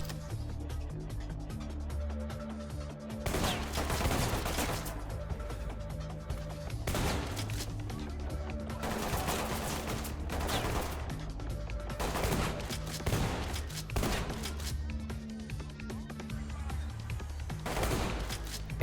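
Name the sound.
gunfire in the video game Ready Or Not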